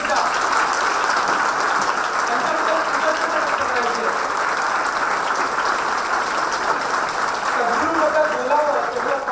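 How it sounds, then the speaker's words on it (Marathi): An audience clapping loudly and steadily at a talk, a dense sustained wash of applause with voices mixed faintly underneath. "जोरदार टाळ्या वाजून परत एकदा"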